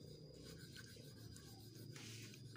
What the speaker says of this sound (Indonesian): Kita amplas perlahan aja